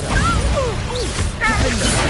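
A spell blast from the Hogwarts Legacy game, set amid a steady bed of game effects with whooshing, swooping tones and a thumping impact partway through, all dense and loud from start to finish.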